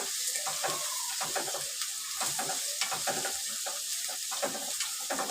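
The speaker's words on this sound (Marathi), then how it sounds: "आता कांदा चांगला परतून घ्यायचा तुम्ही" Chopped onion sautés in a pan for Maharashtrian sevai upma, a steady busy sizzle broken by repeated scraping and stirring strokes, close and fairly loud, with no voices.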